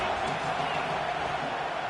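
Steady roar of a stadium crowd at a high school football game, continuous broadband noise with a few faint calls rising out of it, loud and sustained throughout.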